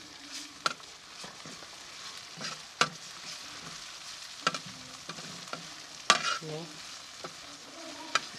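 Liver frying on a tawa with ginger garlic paste, a spoon stirring and scraping in sharp clattering strokes over a soft continuous sizzle.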